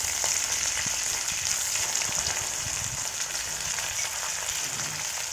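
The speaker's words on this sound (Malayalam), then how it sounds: "ആ വെണ്ടയ്ക്ക അതിലിട്ട് നന്നായിട്ടൊന്ന് ഇളക്കി അതിൻ്റെ വഴുവഴുപ്പൊക്കെ പോകുന്നത് വരെ ഒന്ന് വഴറ്റണം." Okra stirred and sautéed in a pan, a continuous bright sizzle with soft scraping and stirring taps underneath, steady and close throughout.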